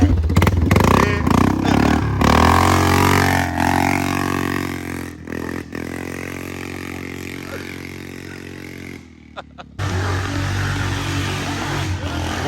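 A straight-piped four-wheeler ATV engine roars very loud up close as it drives off, revving and rising in pitch with clattering, then cuts out briefly before the rough, loud exhaust returns.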